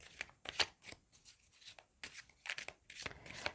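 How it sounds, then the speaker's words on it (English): Soft, quick flicks and riffles of tarot cards being shuffled up close, in short irregular bursts with brief pauses, fairly quiet. "I'm shuffling the cards for you now."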